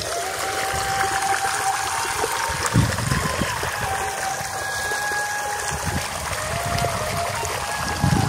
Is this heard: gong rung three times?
no